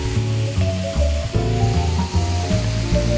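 Splash of white wine hitting a hot pan of sautéed squid with green beans, a loud continuous sizzle and frying hiss lasting the whole stretch with no voices.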